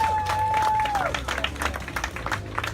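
Protest crowd at a counterprotest rally in Austin, Texas breaks into scattered clapping and cheering outdoors, moderately loud, fading over a few seconds, with a whistle tone at the start.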